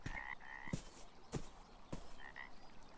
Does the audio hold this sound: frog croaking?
yes